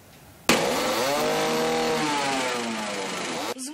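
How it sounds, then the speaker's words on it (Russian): A small go-kart engine run by an 11-year-old driver before a race start, starting abruptly and holding a loud, buzzing, high-revving drone that rises and falls slightly in pitch before cutting off. "Звук мотора – первое, что проверяет 11-летний Степан Прохоров на своем картинге перед стартом."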